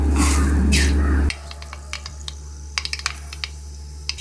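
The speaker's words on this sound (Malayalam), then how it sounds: "എണ്ണ ചൂടാകുമ്പോഴേ ശകലം കടുകിട്ട് പൊട്ടിക്കും" Mustard seeds spluttering in hot oil while making a spicy beef pickle: a loud sizzling hiss that cuts off abruptly, followed by scattered sharp pops and crackles of varying strength.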